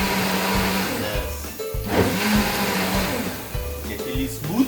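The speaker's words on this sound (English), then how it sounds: "Okay, put on the blender." A power blender grinds rice into a smooth mix for scallop, shrimp and chicken congee at home, a loud close motor whir that shifts in pitch as the load changes and keeps running throughout.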